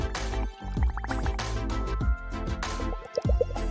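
Someone blows through a straw dipped in melted candy, making a run of wet, bubbling pops and gurgles that come in uneven bursts, close up and fairly loud.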